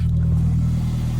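A 2015 Mercedes CLA 250 4matic engine running just after starting, a loud steady low rumble close by with no voices.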